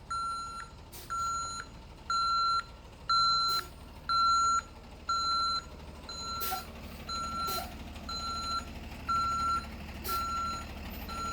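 A tow truck's reversing alarm beeps in a steady repeating rhythm, a dozen evenly spaced tones over low idling engine rumble, with no one talking.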